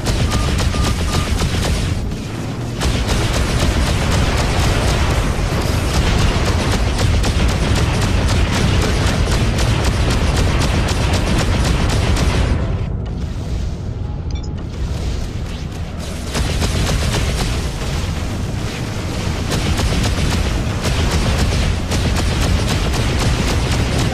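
Missile explosions in the Freelancer space game, heard as loud, dense rumbling blasts and crackling bursts, sustained and near, with a brief drop in the middle before the barrage resumes.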